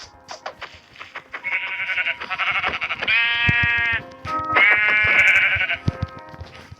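Sheep bleat repeatedly in Minecraft, a run of loud, close, wavering calls that overlap in quick succession.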